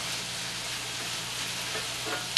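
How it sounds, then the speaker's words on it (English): Continuous sizzling and crackling of potatoes frying in a pan, steady and close, with no talking. "They cook like this, frying on top, outside."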